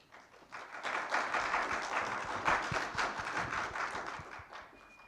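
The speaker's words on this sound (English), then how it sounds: "How about just another round of applause for our amazing panelists" An audience applauding panelists at a K-12 education talk, a sustained round of many hands clapping at moderate distance, swelling quickly and holding steady before tapering off.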